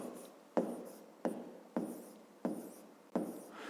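Pen or pencil writing out a fifth-grade math solution on paper, with six distinct strokes in a steady rhythm, each a sharp scratch that trails off, close and alone.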